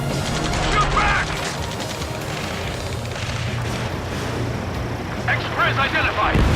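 Sustained gunfire and rumbling booms during an Ace Combat 7 mission, a busy continuous barrage with voices calling out over the shooting.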